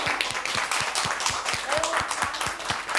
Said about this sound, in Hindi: इसके लिए सबके लिए एक जोरदार ताली होनी चाहिए